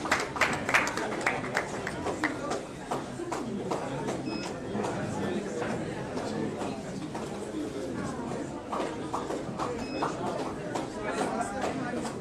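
Steady applause from an audience at a national youth gathering, sustained and fairly close, with scattered chatter and voices mixed under the clapping throughout.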